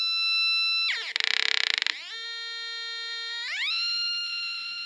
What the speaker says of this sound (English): And just like any annoying alarm should be, this is quite annoying.